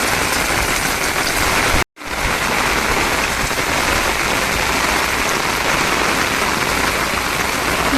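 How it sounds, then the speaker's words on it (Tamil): Heavy rain pours down in a dense, constant roar, cutting out for an instant before continuing unbroken. "செம்மையான அடிங்க மழை"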